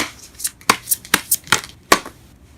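Tarot cards are shuffled close up, giving a quick series of crisp riffling flicks and slaps at an uneven rhythm, with no talking.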